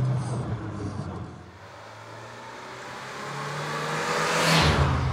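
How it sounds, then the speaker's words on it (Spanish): A 1990 Fiat Uno Turbo i.e. accelerating, its engine note droning steadily and building in loudness toward the end, heard close and alone without talk. "explotar al máximo el potencial de aceleración que tiene este Fiat Uno Turbo."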